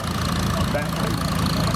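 A Massey Harris 101 Super tractor fitted with a Chrysler engine and two-step governor runs at a steady idle at an antique tractor show parade, a continuous low engine drone with faint knocking throughout.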